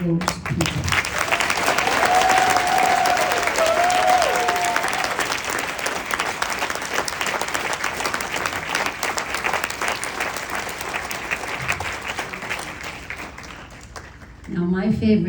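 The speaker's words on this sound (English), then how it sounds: "So I want to have a loud, wholesome thank you clap for all those people" An audience at a fiftieth reunion gathering gives a long, loud round of applause that swells early, then slowly thins toward the end before a speaker's voice returns.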